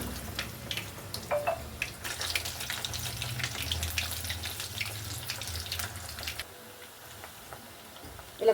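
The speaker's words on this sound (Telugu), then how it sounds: "ఈ మీడియం ఫ్లేమ్లోనే వేపుకోవాలండి" Black-eyed pea vadas deep-frying in oil on a medium flame, a steady soft sizzle and bubbling that runs for several seconds then drops quieter, with a faint clatter at the end.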